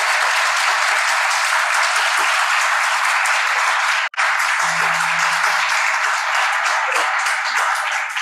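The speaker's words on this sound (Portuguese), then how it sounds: "Mas com essa salva de palmas, com essa moleza aí, dê uma salva de palmas aí de jeito" A church congregation applauds in a steady, dense wash of clapping that holds loud and even, broken once by a brief cutoff, with a faint low tone surfacing for a moment underneath.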